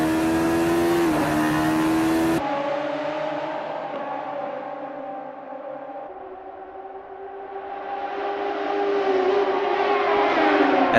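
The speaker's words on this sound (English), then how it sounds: "As the drivers get this race underway" Radical SR3 race cars at the Nordschleife in Assetto Corsa drone together at the start of a race, a loud layered engine whine that steps in pitch and swells back up toward the end, with no talking.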